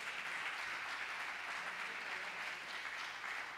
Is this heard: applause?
yes